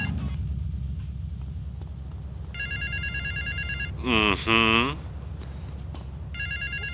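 In GTA Vice City, a telephone rings in two short electronic trills, faint under steady car engine noise, and a person briefly murmurs between the rings.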